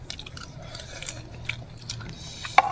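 Someone chews a final bite of spicy, sweet and sour food close to the mic beside a river on a fishing trip, with soft wet mouth sounds over low background hum and one sharp click near the end.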